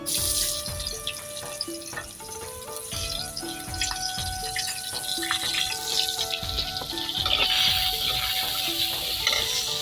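Chopped onion sizzling in mustard oil in a wok, a steady frying hiss that runs under melodic background music and grows slightly louder toward the end.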